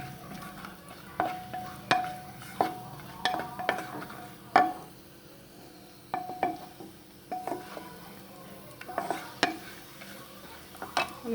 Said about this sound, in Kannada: ಸ್ವಲ್ಪ ಕೆಂಪಾಗೋವರೆಗೂ ಹುರಿದು